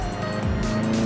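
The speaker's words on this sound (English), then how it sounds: "That intake sounds so amazing." A tuned VW MK7 Golf GTI engine hums steadily under acceleration from inside the car, a continuous close drone with a rising intake tone and no talk.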